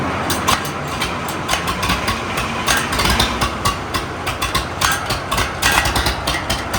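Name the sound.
old Case two-cylinder tractor engine running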